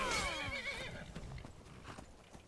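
A horse in the Skyrim video game whinnies loudly at the start, its neigh sliding downward, followed by soft clip-clopping hooves over a steady game background.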